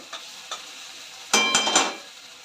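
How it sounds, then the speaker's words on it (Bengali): Spice masala fries in hot oil in a pan for a prawn malai curry, with a couple of light taps and then a short, close burst of sizzling and stirring. "ভালো করে আবার মশলাটাকে ভেজে নেব"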